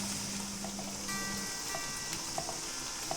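Ginger garlic paste sizzles steadily in hot oil in a pan while frying the base for a stuffed egg curry, a continuous close crackling hiss with small pops and no voices.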